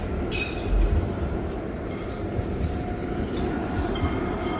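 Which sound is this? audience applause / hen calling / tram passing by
tram passing by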